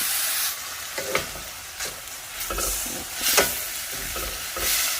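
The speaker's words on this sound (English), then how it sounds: "I'm going to add the tomato. I want that to break down. Let's give that a mix." Tomatoes fry in a pan with smoked paprika while a spoon stirs them, the bright sizzle broken by several scraping knocks spaced about a second apart.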